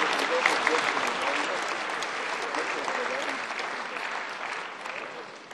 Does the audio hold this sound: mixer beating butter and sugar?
no